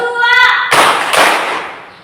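A classroom of pupils answers a teacher's spoken cue with two sharp group claps about half a second apart, loud and close, ringing briefly in the room.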